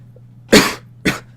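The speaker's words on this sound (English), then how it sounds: "Sorry about the cough." Two sharp coughs close by, a longer one followed half a second later by a shorter one, over a faint steady hum.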